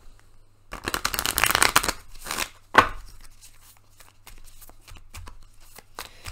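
Tarot cards being shuffled close up, a dense riffling burst followed by shorter flicks and soft card slaps at a quiet level, with no talking.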